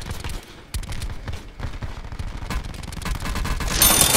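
Rapid bursts of automatic gunfire in a video game shootout set on Alcatraz, loud and close with dense overlapping shots that build toward the end, no talk over them.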